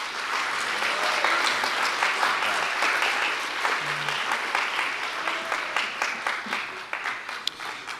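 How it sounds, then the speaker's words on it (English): Sustained applause from an audience at a junior high school spring band concert, a dense wash of clapping throughout with individual claps growing more distinct as it begins to thin near the end. "Give him another round of applause."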